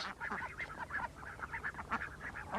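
Ducks working wet, fertile farm bottomland give a rapid run of nasal quacks and honks, a close chorus of calls over a quiet background.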